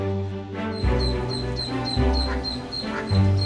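Ducklings quack in a loud, busy chorus, a group of ten calling over a steady musical bed, with rhythmic bursts of peeps and quacks close by.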